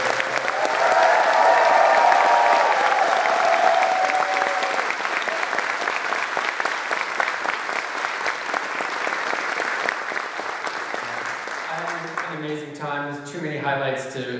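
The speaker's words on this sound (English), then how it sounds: "we should give a big round of applause for Oscar and the crew" A large crowd at a fair's closing ceremony claps in a sustained round of applause that starts loud and slowly fades, with a voice beginning to speak over the last few seconds.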